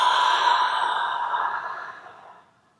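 A single long, breathy exhale during a yoga breathing exercise, close and clear, fading out gradually over a couple of seconds with no other sound.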